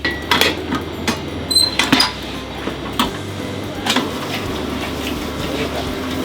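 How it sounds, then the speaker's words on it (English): An electric mixer churns mince meat in a bowl for pastry baking, giving a steady low mechanical rumble with a few clattering knocks near the start and no talking. "This is a mixer."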